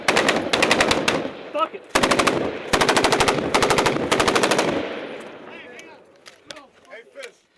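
A submachine gun fires rapid bursts in a live firefight, loud and close, with several long strings of shots broken by short pauses, then distant scattered gunfire as a man swears briefly.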